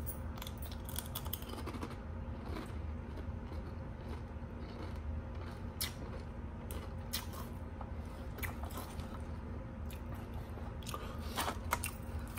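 Ruffles Double Crunch potato chips being bitten and chewed close to the mic, with repeated crisp crunches throughout over a steady low background hum.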